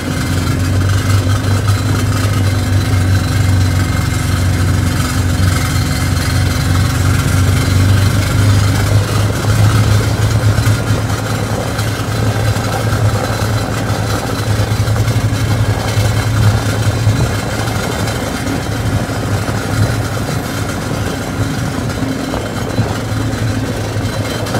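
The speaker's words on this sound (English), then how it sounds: "I think the idle's set too high, so I'll probably look into getting that idle fixed" A Snapper Trail Cruiser riding mower engine idles too high, a loud, steady, close droning hum with a constant low pitch and slight rough pulsing throughout, no talk.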